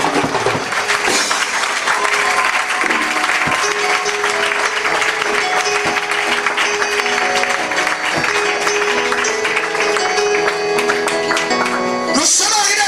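A church congregation bursts into dense, sustained applause that fills the space for the whole stretch, loud and close, with steady musical tones running beneath and a brief swell of other sound near the end.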